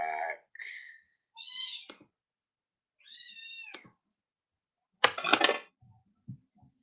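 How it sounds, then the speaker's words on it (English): Cats meowing in several separate bursts, some drawn-out and plaintive, followed by a louder, rougher yowl and a few faint short mews, heard alone without talk. "We got to go get the kitties."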